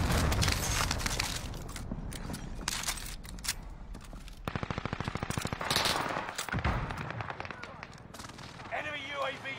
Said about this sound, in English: People are shooting from every angle.